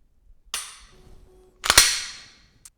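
Dry-fire pistol practice with a Mantis X10 Elite trainer: two sharp, loud close clicks of the trigger and action about a second apart, each with a ringing tail, then a faint tick, no voices.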